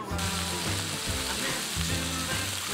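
Pork belly and chunks of water parsley sizzle in a hot pan, a steady close frying hiss with occasional stirring bumps throughout.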